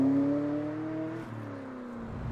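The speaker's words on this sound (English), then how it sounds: "The thing about these V8s is they've got such a soundtrack to them, just raw power. I'm enjoying going through the gears." A supercharged Vauxhall Monaro V8 revs up through the gears, its engine note climbing, dropping briefly at a shift, then rising again, heard from inside the car at moderate volume.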